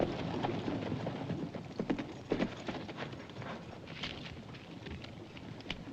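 Horse hooves clip-clop at a slow, uneven pace against a steady outdoor rumble of wind, with faint bird chirps.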